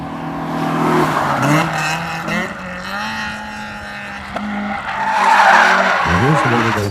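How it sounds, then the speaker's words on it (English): A front-wheel-drive car drifts with loud, close tire squeal and a revving engine in sustained slides that shift in pitch as it connects one drift to the next, with a voice faintly in the background. "It's all about connecting a series of drifts while making it look all too easy"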